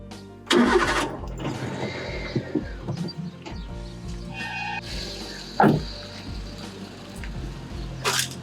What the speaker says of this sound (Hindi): गाड़ी अभी स्टार्ट है, मैं अभी इसको बंद कर देता हूँ